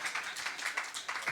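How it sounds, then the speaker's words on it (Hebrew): Audience applause at a conference session on trauma healing, a steady patter of many hands clapping together throughout, fairly even in level with no voices over it. "לזה אין כפיים? תנו כפיים."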